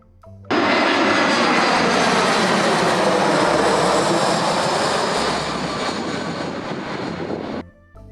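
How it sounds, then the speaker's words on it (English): A passenger airplane's engines roar loud and steady, a dense broadband drone that holds for about seven seconds before cutting off, with no voices. "passenger airplane."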